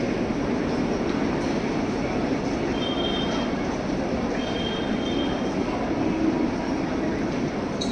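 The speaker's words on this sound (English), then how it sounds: "We might not be the only train that's arrived." A passenger train rolls into Chennai railway station with a steady, loud rumble of wheels on track, with faint brake squeals rising briefly above the continuous noise.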